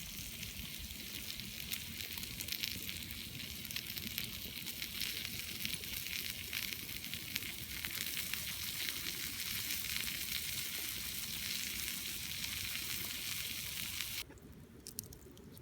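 Bacon sizzles and crackles on a red-hot stone at a winter beach camp, a steady dense hiss that carries on close and continuous before it suddenly drops lower near the end.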